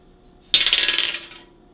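Dice tossed during a board game: a single sharp clatter followed by a quick run of rattling bounces that rapidly fade out over about a second, close and alone in an otherwise quiet room.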